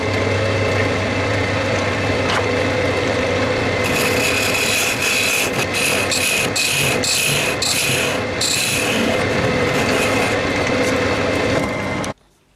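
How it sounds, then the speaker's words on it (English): A 10mm round carbide cutter scrapes a spinning sapele wood goblet on a lathe, a steady, close rasping rub with a run of rapid, rhythmic bursts in the middle before it cuts off abruptly. "And for that I'm just going to use a little 10mm round carbide cutter."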